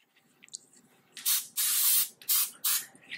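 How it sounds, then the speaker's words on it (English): Pam cooking spray is sprayed into the bottom of a Dutch oven in four loud, close hissing bursts of varying length, separated by short gaps after a few faint handling sounds. "take a little Pam and spray the bottom."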